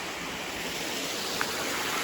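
A waterfall rushes as a steady broadband hiss of falling water, constant and fairly close, with no voices heard.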